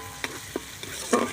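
A spoon stirs Kashmiri chili powder into a frying pan, producing a few soft scraping strokes at an uneven rhythm over a faint, steady sizzle, close and fairly quiet.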